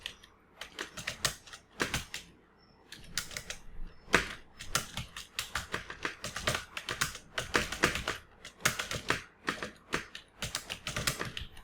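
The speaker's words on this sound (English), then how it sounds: "Now next to the emoji we will type the title of the resource of the books." Typing on a computer keyboard: bursts of quick, crisp key clicks, close and fairly quiet, separated by brief pauses, with no voices.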